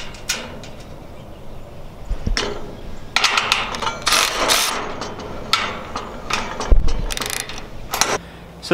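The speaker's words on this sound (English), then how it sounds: "this little Milwaukee ratchet wrench, I definitely underestimated the power that this thing has, because I just straight up ripped that bolt in half" Milwaukee ratchet wrench working a bolt on a lawn care trailer setup, giving repeated bursts of clicking, grinding mechanical noise with a few sharp knocks, close and fairly loud, with no talking.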